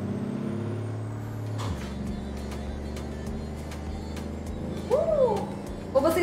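Truck engine rumbles steadily with a sharp air-brake hiss and squeal near the end, heard up close over faint background music.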